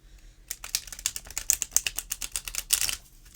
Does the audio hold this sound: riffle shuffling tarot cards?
yes